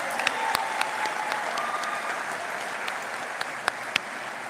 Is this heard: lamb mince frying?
no